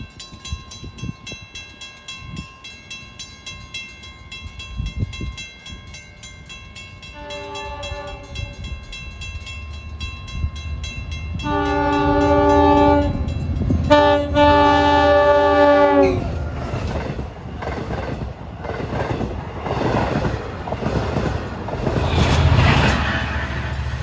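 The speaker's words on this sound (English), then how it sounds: "Leader is 521 with the K5 LLA horn." A Montauk train led by locomotive 521 with a K5LLA horn, trailed by 520, approaches with a low rumble, sounds several horn blasts that grow longer and louder, then roars past nearby with rolling wheel and car noise.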